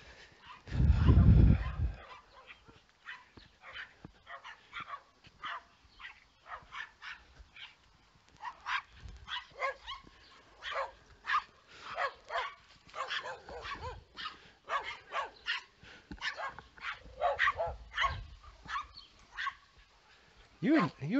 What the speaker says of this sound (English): Little poodle's vicious, showing teeth and everything.